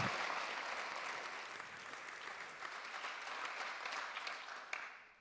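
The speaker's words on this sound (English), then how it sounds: "Give our panel a round of applause" Audience at an environmental debate applauding the panel, steady dense clapping throughout that gradually fades toward the end, no talking over it.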